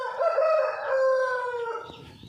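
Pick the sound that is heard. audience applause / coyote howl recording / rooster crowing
rooster crowing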